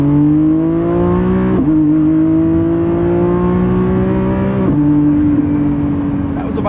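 A 2025 Lamborghini Revuelto's 1,001 hp V12 accelerates at quarter throttle through its 8-speed DCT, heard from inside the car. It makes a loud, rising engine tone that steps down twice at the gear shifts.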